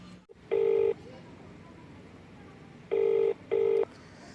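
Three separate telephone ring tones, loud and close, sound over a low background hum while the call goes unanswered.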